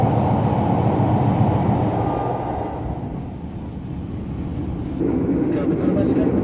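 The Progo passenger train rumbles steadily along the rails, heard from inside a carriage as a loud continuous roar that eases slightly midway before swelling again.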